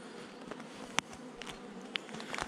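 Honeybees hum in an opened hive, a soft continuous drone with a few sharper buzzes and clicks as individual bees pass near.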